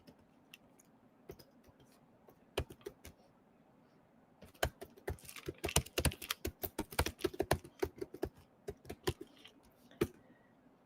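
Computer keyboard keys clatter close by, first in sparse isolated taps and then in a denser burst of rapid typing before tapering off to a few last strokes.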